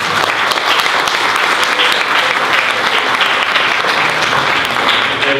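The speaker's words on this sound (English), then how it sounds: "will you please join me again in giving them a warm applause" An audience at a panel discussion about faith communities after Hurricane Harvey claps for the panelists, a dense, sustained round of applause filling the room at a steady, loud level throughout.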